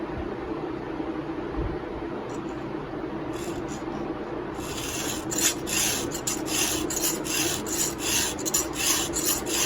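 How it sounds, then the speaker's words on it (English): A hand file sharpens the tooth of a semi-chisel chainsaw chain, starting with quiet scraping and then settling into loud, rhythmic rasping strokes close by, with no talking. "Doesn't take a whole lot of effort to file"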